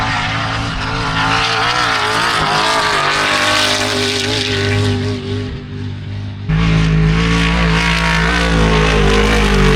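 A race car roars past at high speed on a desert course during the Finke Desert Race, its engine loud and close, rising and falling with gear changes, then a second burst of engine noise swells abruptly near the end.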